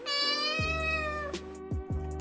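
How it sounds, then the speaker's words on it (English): A cat gives one long, loud, drawn-out meow followed by a couple of shorter chirping meows, close by and clear with no talk over it. "Ah, there is a cat."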